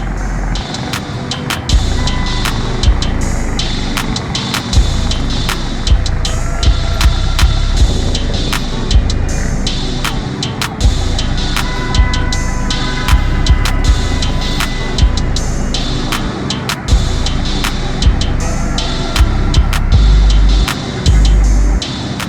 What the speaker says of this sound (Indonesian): membuat arus lalu lintas melambat dan menumpuk